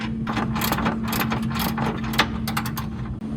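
A hand ratchet tightens supplied hardware fastening a light pod and U-cradle to a grille bracket on a 2019-2024 RAM 2500/3500 HD truck, giving a steady run of rapid, close clicking with no talking.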